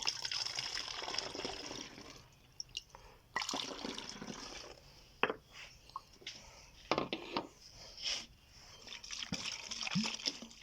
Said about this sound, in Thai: ตักน้ำใส่ ล้างขวดพร้อมให้ดี